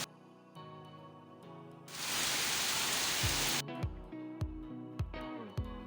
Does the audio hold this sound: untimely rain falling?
yes